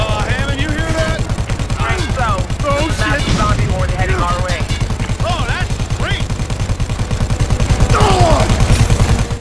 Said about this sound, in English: That's probably why they gave us a minigun.